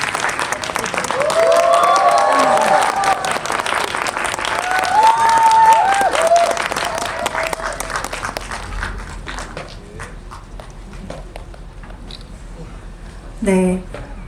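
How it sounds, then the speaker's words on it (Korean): A crowd at a film screening Q&A applauds loudly and steadily to welcome guests, the clapping gradually thinning out and fading near the end. "큰 박수로 세 분의 게스트를 환영해 주시기 바랍니다."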